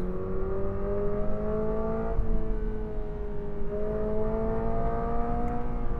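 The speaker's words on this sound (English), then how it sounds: "I'm going to downshift here into second." A 2022 Toyota GR86 engine revs hard as it downshifts into second gear on a coned course, a steady near roar whose pitch climbs and falls for several seconds with no talk over it.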